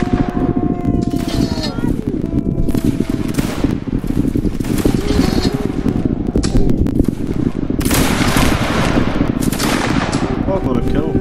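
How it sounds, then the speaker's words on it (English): Muskets fire in bursts and ragged volleys from a Saxon fusilier line in a Napoleonic line-battle video game, with loud, close cracks scattered over a steady rumbling battlefield background and voices talking throughout. "Alright, make ready, present. Make ready, present. Fire."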